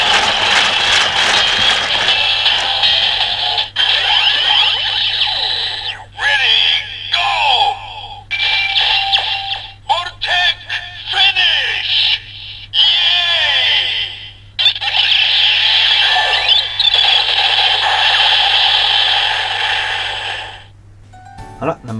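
A Kamen Rider Build driver toy blares an electronic finisher sound effect, a loud stretch of synthetic tones and jingles with stuttering gaps and sweeps, repeated for about twenty seconds over a constant low hum.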